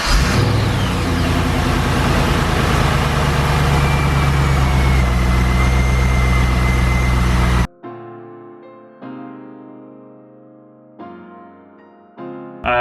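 A Corvette engine with a suspected rod knock runs loudly and steadily close by, then cuts off abruptly, followed by quieter intermittent engine bursts separated by gaps.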